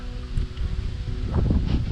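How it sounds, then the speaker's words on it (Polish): Wind gusting outdoors at a beekeeping apiary on a cold day, a steady low rumbling buffet with rustling swells, continuous and fairly loud, no talk. "Wiatr bardzo przeszkadza."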